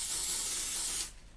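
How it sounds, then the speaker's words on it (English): A steady, loud hiss of an aerosol adhesive spray can, sustained for about a second and then abruptly cut off, with no voices. "So I'm going to use an adhesive spray"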